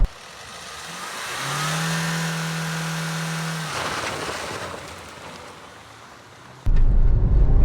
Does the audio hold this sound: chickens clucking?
no